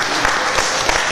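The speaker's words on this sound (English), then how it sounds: "Let's clap it up." An audience at an evening lecture breaks into applause. A brief, dense burst of clapping at fairly loud level, with faint crowd murmur underneath.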